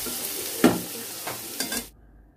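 Fish and onion frying in a little oil, a soft sizzle broken by several scraping stirs of a spatula, close and moderately loud, before the sound abruptly cuts to near silence.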